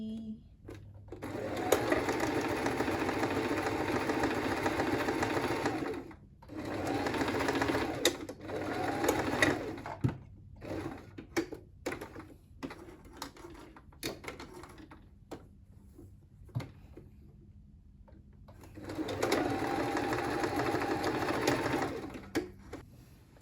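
Sewing machine stitching fabric for a skirt, running in several steady bursts with pauses and short taps between them, close and fairly loud.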